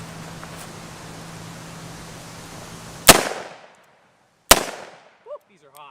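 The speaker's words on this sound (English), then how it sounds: "we're going to shoot the Python a little bit out of my Python holster" A Colt Python revolver fires two loud, sharp shots a little over a second apart, each sharp crack followed by a short decay, with a low hum before the first shot and faint small sounds after.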